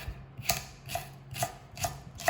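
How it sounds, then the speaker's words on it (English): A knife chops celery into small dice on a cutting board, giving five evenly spaced, sharp, close knocks over a faint background hiss. "I'm going to add some celery. So what I'm going to do, I'm just going to cut some small, very small dices"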